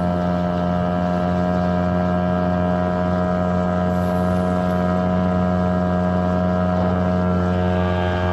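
The outboard motor version of an LE-3TT displacement boat runs on open water against the wind, giving a close, steady engine drone with a strong tonal hum that holds for several seconds, with no speech.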